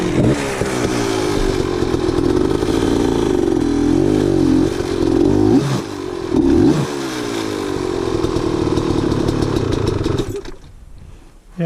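An enduro dirt bike climbs rock in a creek bed, its engine close and loud, revving and bogging in waves before cutting out near the end.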